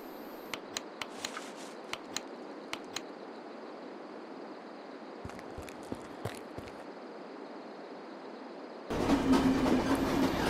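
A train in the video game The Final Station carries on moving, a low steady hum with scattered sharp clicks, then a louder surge of rolling rail noise in the last seconds.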